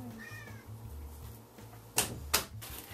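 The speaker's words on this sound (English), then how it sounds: "My cat's meowing." A house cat meows softly indoors, a faint wavering cry early on, followed by two sharp knocks or clatters close by in an otherwise quiet room.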